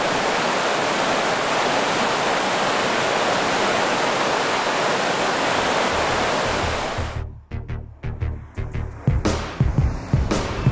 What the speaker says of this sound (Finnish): Terveisiä Tuomakselle täältä kosken ääreltä.